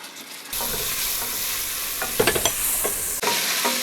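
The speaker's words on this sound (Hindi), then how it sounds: "तमाम स्पाइसेस हम इसमें शामिल कर लेंगे और प्याज के साथ इसे कड़कड़ा लेंगे।" Spices, onion, garlic and red chili paste fry in a pot for beef pulao, giving a loud, steady sizzle with brief stirring scrapes in the middle and no talking.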